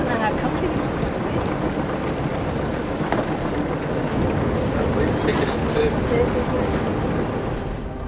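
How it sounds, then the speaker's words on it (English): Steady, loud wind buffeting a sailboat as it nears the bay at Katalada on a Greek lee shore, with a constant broadband roar of gusts and water wash throughout and no pauses. "As we approached the bay at Katalada, the wind picked up."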